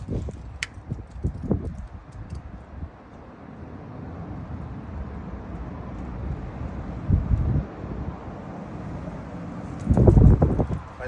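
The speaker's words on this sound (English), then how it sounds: "Why does it have to be windy right now?" Wind blows outdoors while fire starters are lit, buffeting the microphone with low rumbling gusts that swell and fade, strongest in a few bursts near the middle and end.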